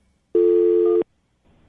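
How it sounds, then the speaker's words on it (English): A steady telephone tone sounds from the line as a phone number is dialed, one loud sustained burst of under a second, then quiet with a faint second tone starting at the end. "I'm going to dial the phone number right now."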